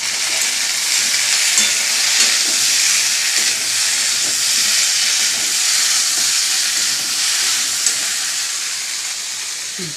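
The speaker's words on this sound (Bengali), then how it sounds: "পটল ভেজেছি, তার তেলটাতে বসিয়েছি তো, ডালটা সাঁতলে দিই।" Dal being tempered in turmeric-yellow oil left over from frying pointed gourd (potol), giving a steady, close, continuous sizzle and hiss that holds level throughout with no talking.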